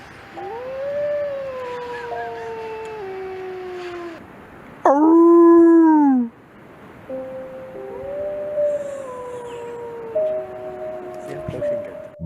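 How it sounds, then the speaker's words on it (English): A wolf in the wild lets out several long, loud howls that rise and fall in sustained tones, a sharper closer cry in the middle, followed by further overlapping howls, apparently answered from another direction. "It immobilizes not too far away in order to let out a few loud howls, most likely trying to locate its pack."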